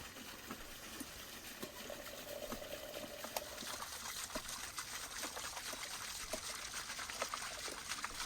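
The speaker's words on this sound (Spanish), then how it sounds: "El agua del samovar está hirviendo." Water in a samovar at a rolling boil outdoors beside a campfire in Azerbaijan, a steady bubbling and trickling hiss with faint crackles, continuous and close.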